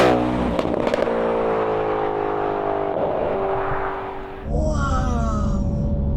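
A supercharged Audi RS4 B7 with an APR kit accelerating hard, engine pitch rising through gears with a shift and a brief dip, then pulling again with supercharger whine, loud and close from inside the car, no speech.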